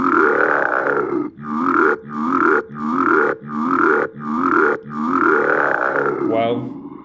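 Dragon sound effect in a Scratch coding project, a loud rhythmic series of about seven growling, grunting roars with brief gaps, ending in a short squeal, sounding like a voice imitating a dragon.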